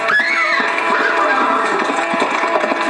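A passing traveller's horse moves along a path, its hooves tapping in a steady clip-clop under a loud, dense wash of sound, with a whinny-like cry near the start.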